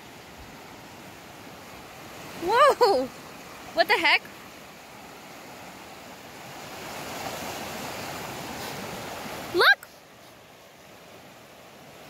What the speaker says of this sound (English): there's like a small creek there.